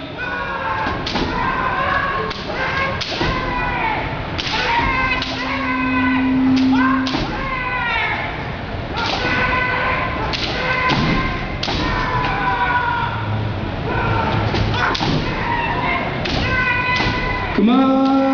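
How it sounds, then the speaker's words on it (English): Kendo attack practice at a New York Comic Con demonstration, with rapid bamboo-sword strikes landing as quick repeated thuds and slaps amid loud shouted kiai from the fighters, in a noisy hall. "what you're going to see is they're going to do a lot of strikes in rapid succession"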